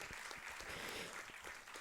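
A brief burst of applause at a college valedictory ceremony, steady crowd clapping at moderate volume with no talking.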